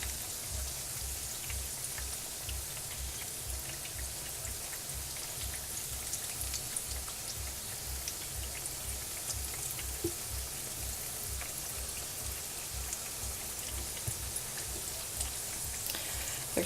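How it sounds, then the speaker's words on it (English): Taco shells frying in hot oil until crispy, a steady, dense crackling sizzle that continues evenly throughout at close range with no talking. "And just fry these up until they're crispy."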